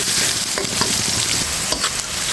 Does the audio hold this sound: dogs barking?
no